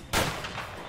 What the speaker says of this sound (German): Er schießt auf mich